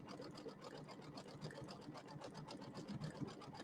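An embroidery machine sews a satin stitch along a pillow edge, a steady fast needle chatter with a continuous motor hum running evenly throughout, close and moderately loud with no talking.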